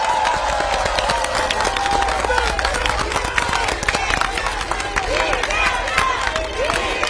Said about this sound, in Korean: 이 자리를 빌어서 감사한 마음과 힘찬 박수